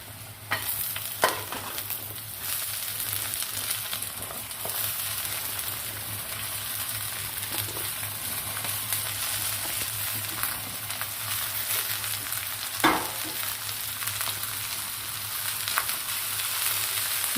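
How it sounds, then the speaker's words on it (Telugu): Shredded cabbage fries steadily in a hot pan of tempering spices with a continuous hiss and crackle, broken by a few scraping stirs of a spoon. "క్యాబేజీని కొంచెం సేపు వేగనిద్దాం. పోపులో కొంచెం సేపు వేగనిస్తే బాగుంటుంది."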